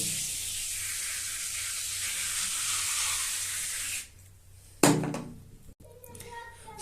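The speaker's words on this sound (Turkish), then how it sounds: "Şimdi çalkalayalım domolu çalkaladıktan sonra üzerine sıkalım" Domol grill and oven cleaner sprayed onto a shoe: a long continuous hissing spray runs for about four seconds, then stops, followed by a sharp knock and a few small handling sounds close by.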